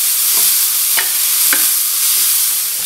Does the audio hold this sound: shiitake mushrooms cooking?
yes